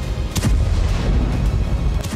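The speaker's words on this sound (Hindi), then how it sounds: "तेल अवीव में रॉकेट गिरने से कई धमाके हुए हैं।" Rocket strikes in Tel Aviv during the Israel–Gaza war bring continuous heavy rumbling booms and blasts, dense and loud throughout, with no voices audible.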